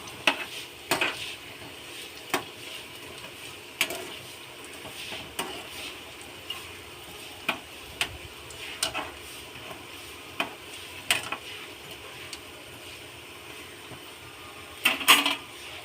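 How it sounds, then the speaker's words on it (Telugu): Punugulu made from idli batter fry in oil under a quiet, steady sizzle, broken by regular clinks and scrapes as a utensil stirs the pan. "ఇవన్నీ మధ్య మధ్యలో కలుపుకుంటూ వేపుకోవాలి"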